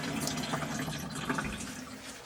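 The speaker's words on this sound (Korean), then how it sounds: "이렇게 누르면 물이 이렇게 나와서 씻을 수 있고요" Water runs continuously from a battery-powered camping sink faucet, a steady close splashing stream with no talk over it.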